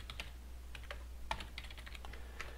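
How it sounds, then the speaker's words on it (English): Code being typed on a computer keyboard in a custom code editor, with irregular bursts of close, crisp key clicks over a steady low hum and no voices. "I can of course type some code."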